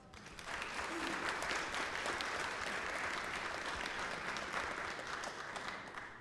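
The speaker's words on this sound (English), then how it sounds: "So can we give them a round of applause?" A crowd claps steadily and loudly for several seconds, a dense continuous patter of many hands with no talking over it.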